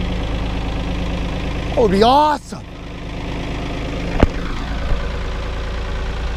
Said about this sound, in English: Oh my goodness, this tractor starts.